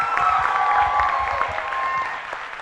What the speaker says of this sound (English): please give a massive applause for both grand finalists